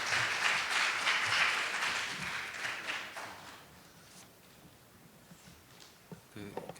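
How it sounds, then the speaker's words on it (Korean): Applause from a forum audience greets the final presenter at an East Asian sustainable-gastronomy forum, loud and dense at first, then thinning and fading over several seconds before a voice begins speaking near the end. "큰 박수로 맞아주시기 바랍니다"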